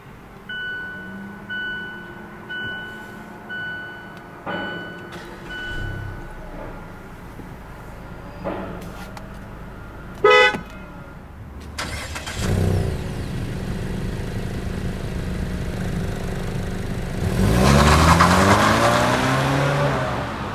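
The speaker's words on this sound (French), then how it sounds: "on n'a qu'à appuyer sur ce bouton pour faire démarrer le véhicule" A 2016 Mazda CX-5 GS started by push button: a series of clicks and brief mechanical noises, then the engine cranks and catches. It settles into a steady idle that swells louder near the end.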